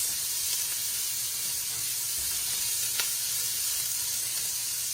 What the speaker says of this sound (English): And you're gonna keep stirring it so it won't stuck to the pan